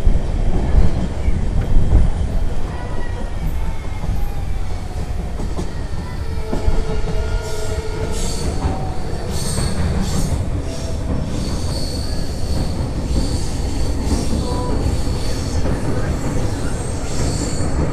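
Pamban Express crossing the new Pamban rail bridge between Rameswaram and the mainland: a loud, steady rumble of wheels on track with drawn-out metallic squeals and a rhythmic clatter, heard from on board the moving train.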